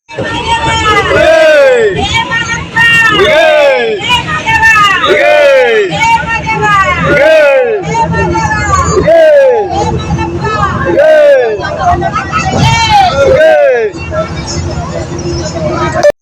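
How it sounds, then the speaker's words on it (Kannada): Pilgrims crowd together inside a bus, their loud, rhythmic shouting and cheering rising in repeated chant-like bursts about once a second, sustained and close over the hum of the moving vehicle. "ಬಸ್ಸಲ್ಲಿ ಕೂಗೋದೇ ಕೂಗೋದು"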